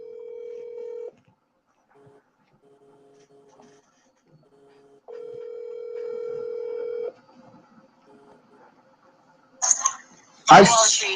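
Telephone keypad tones and a steady ringback tone as a radio station places a call-in line on an FM show, followed by brief rustling handling noise near the end, with no talk.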